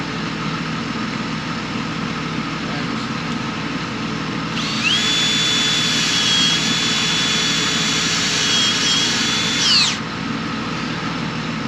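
A power drill drives a screw during a farm equipment repair at harvest time, giving a steady high motor whine for about five seconds over a constant low rumble in the background, with no speech.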